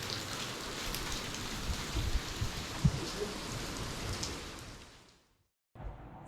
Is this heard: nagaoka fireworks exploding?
no